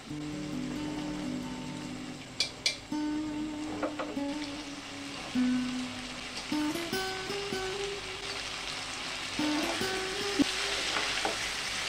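Boiled chickpeas and potatoes fry in a spiced masala for a chana paneer dish, a steady close sizzle broken by spoon scrapes and stirring knocks, with no voices.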